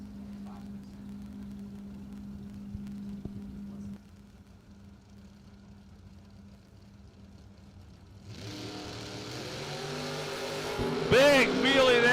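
Drag race cars, a Nova and a Mustang, sit near idle at a low hum before launching down the strip with a rising, revving engine roar that grows louder toward the end.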